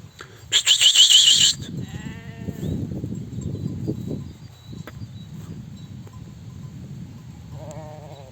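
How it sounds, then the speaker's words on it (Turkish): Month-old lambs and sheep bleat repeatedly in a flock on pasture, several overlapping calls near and farther off, with a shrill burst of chirping early on. "bizim sürüden baya bir ses çıkıyor. Bunun sebebi bu küçük kuzuları saldık."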